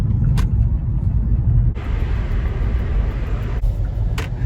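Cars pass on a Fort Worth road, a loud close rumble of engine and tire noise that shifts as one vehicle goes by midway, with faint higher clicks scattered throughout.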